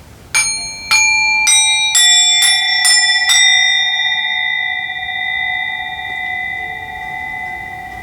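A series of about seven bright bell strikes in quick succession, their shimmering tones layering and ringing out together in a long, sustained decay.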